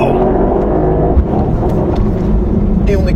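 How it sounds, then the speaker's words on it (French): A 2024 Mercedes-AMG GT 63 Coupe with 585 hp and 800 Nm launches hard in first gear, its engine roaring loud and close with a rising harmonic growl that holds for a few seconds. "Oh, le décollage en première là, il est monstrueux."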